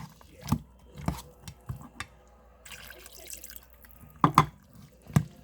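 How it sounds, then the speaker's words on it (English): Water poured into a can in a home kitchen makes scattered close drips, splashes and gurgles with short pauses between them, fairly quiet and with no voices. "With that, you just put the water in the can."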